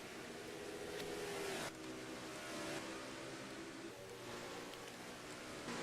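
A Quaker State Ford race car is driven hard in an ERL Nationwide Sportsman Series round at Salem, its engine producing a steady, loud roar with a couple of brief surges in pitch.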